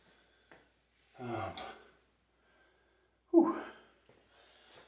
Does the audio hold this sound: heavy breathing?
yes